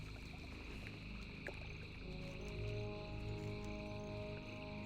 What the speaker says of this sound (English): the sound of the swamp with the frogs is so loud